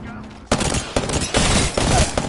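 A close, loud run of gunshots in a shooter video game, about five sharp reports over two seconds within continuous dense firing.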